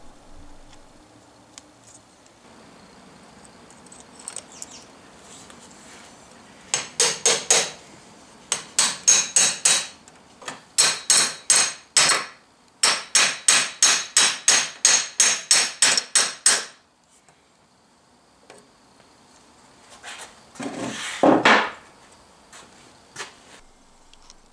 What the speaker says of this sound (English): The machined part of the axle rests against a seal that I'm about to